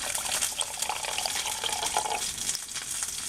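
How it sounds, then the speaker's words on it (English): Chicken broth pours from a carton into a measuring cup up to the quarter mark, a steady close trickle and splash of liquid lasting a few seconds with no talking. "I'm going to actually take a measuring cup, and I'm going to measure out some of our chicken broth"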